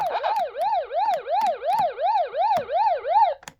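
Pac-Man game audio from a My Arcade mini portable arcade machine: a rising and falling siren-like warble repeating about every third of a second, clear and close, with faint clicks and no speech.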